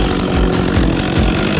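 A chainsaw trimming wood on the side opposite the hinge of a leaning tree, its engine running loud and close in a steady roar with slight rhythmic bogging as the chain cuts.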